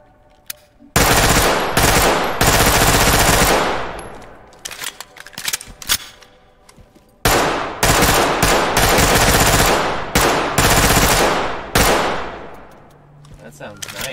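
Submachine gun in the tactical shooter Ready or Not fires long, loud, rapid bursts separated by short pauses, alongside other in-game sounds and some talk.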